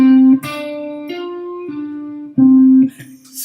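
Slow blues pentatonic phrase on guitar, single notes picked one at a time with bends and slides, held notes ringing close and clear, alone without talk.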